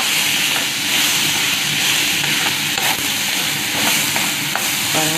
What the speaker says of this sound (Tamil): சேர்த்ததுக்கப்புறம் இதையும் நல்லா ஃப்ரை பண்ணுங்கள்